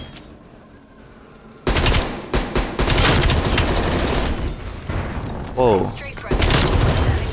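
Enemy sentry turret gunfire in a shooter video game: loud sustained bursts of rapid automatic fire with short gaps between them, and a voice exclaiming briefly.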